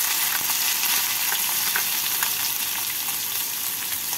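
Two medium chopped onions fry in oil tempered with bay leaves and cumin seeds, a steady, close, unbroken sizzle with occasional soft pops.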